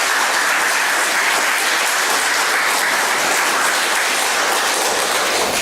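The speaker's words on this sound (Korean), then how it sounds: "격려의 박수를 보내주십시오." Congregation in a church applauding the choir, including its new accompanist and conductor; dense, steady clapping from many hands fills the room throughout without letup.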